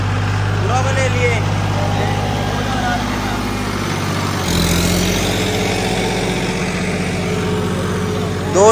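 A John Deere 5210 tractor engine with a power upgrade running at about 2000 rpm, a steady close diesel drone with a brief dip midway, with people talking over it.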